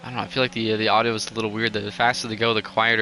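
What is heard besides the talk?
No everyday noise stands out behind the speech.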